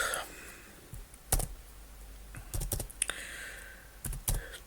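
Keys on a computer keyboard are struck in short irregular bursts of clicks, fairly close and quiet, with pauses between the flurries while a program is written.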